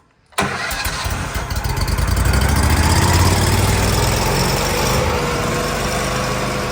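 A Miller Trailblazer engine-driven welder fires up abruptly after a brief silence and settles into a loud, steady, close engine drone that holds for several seconds with no talk.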